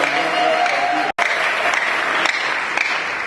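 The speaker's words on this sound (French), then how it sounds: "Acclamons le Seigneur." Congregation applauding during a Catholic mass at a family symposium in Kinshasa, steady dense clapping filling the space, briefly cut off for an instant before resuming just as loud.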